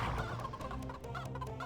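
Chickens cluck in the video game Heretic, a quick burst of close, fairly quiet clucks and squawks over a low droning background.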